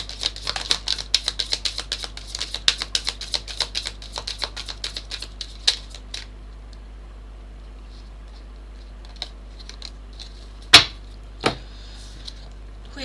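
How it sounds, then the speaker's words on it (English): Tarot cards are shuffled in quick, dense flurries of light papery clicks for about six seconds, then only scattered taps follow, with two sharper knocks near the end. "I'll do another shuffle for Ashley."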